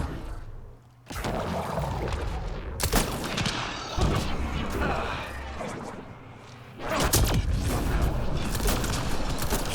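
Grenade launcher firing in Mass Effect Andromeda, with several loud broadband blasts and bursts spread through a busy combat mix, a heavy hit near the start and another late, with a voice talking over the action.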